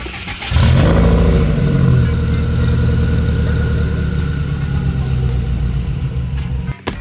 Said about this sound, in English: I feel like the exhaust is back to sounding good